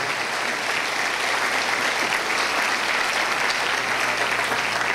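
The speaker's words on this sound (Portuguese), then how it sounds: "Vamos recebê-lo com aplausos." A church congregation at an apostolic conference applauds. The clapping is loud, dense and steady throughout, with no talk over it.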